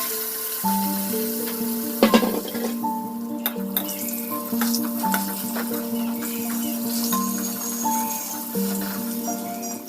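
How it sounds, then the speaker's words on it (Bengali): Sliced pointed gourd (potol) fries in oil in a wok over a clay stove, giving a continuous sizzle with occasional stirring clatter, while sustained tonal sounds run steadily alongside. "ওই পটল কটাই আর কি ভাজা করব"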